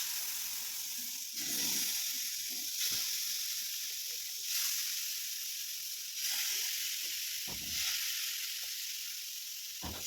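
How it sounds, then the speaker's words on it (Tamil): Fish sizzles steadily on an oiled tawa, with an even hiss running throughout and several short clatters and scrapes breaking in at intervals. "நம்ம அந்த சைடு மீன் வறுக்கலாம்."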